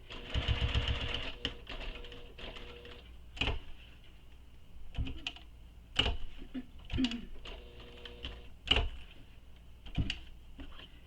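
A sewing machine stitches a crossbody bag, with bursts of rapid mechanical whirring broken by pauses and sharp clicks and knocks of handling, close and fairly loud.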